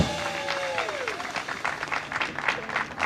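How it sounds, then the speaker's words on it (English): Audience applause at a city brand launch event in Fitchburg, a steady crowd of clapping hands filling the room, with a brief tonal sweep near the start and some faint voices mixed in. "everybody give Monique a round of applause for that."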